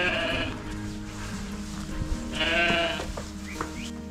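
Sheep bleat in a sheepfold in Romania, several overlapping cries, some near and loud and others softer, with a brief rustle of the flock between calls.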